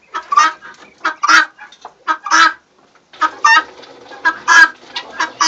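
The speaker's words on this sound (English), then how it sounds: "These guinea hens we picked them up." Loud, close bursts of harsh clucking and chattering from several guinea hens in quick, uneven calls, with brief pauses between.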